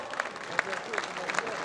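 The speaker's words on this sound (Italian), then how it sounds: "Tanti applausi anche a loro che stanno lavorando" Scattered applause from an audience at a youth brass band concert, with individual claps standing out in an uneven rhythm and faint voices underneath.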